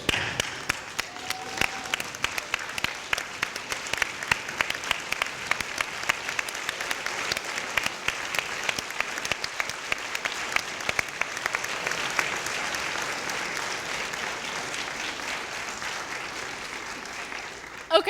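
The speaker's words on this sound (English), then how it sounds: "give them a round of applause for supporting us all along the way" Sustained audience applause at a veterinary college welcome ceremony for the class of 2022, dense clapping from a large crowd holding steady for about eighteen seconds, with a few faint voices mixed in.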